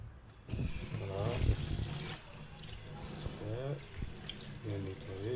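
Tap water runs steadily into a sink while a rubber phone case is rinsed, with someone talking over the flow.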